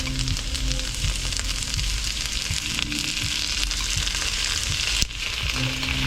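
Carrots and other vegetables fry in a pan for a Thai-style dish with ginger, giving a loud, steady close sizzle that runs without a break and has occasional stirring knocks.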